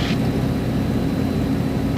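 A steady, broad engine drone fills a light aircraft cabin as the throttle is eased back, continuous and even in level, with no speech.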